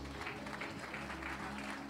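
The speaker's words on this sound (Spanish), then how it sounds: "Dele el aplauso a Jesús." A crowd claps in a brief burst of applause at a church service, fairly close and dense, with no talking.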